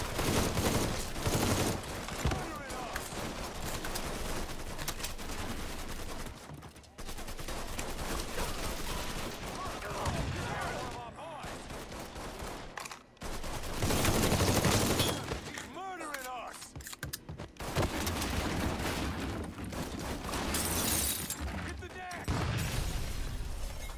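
Gunfire in the Mafia III video game comes in bursts and volleys over about twenty-four seconds, with sharp cracks and rapid fire, and voices talk loudly between and over the shots.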